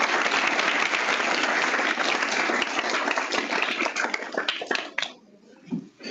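Audience applause after a talk at a spring symposium session, dense and steady for about five seconds, then thinning into scattered claps and fading out.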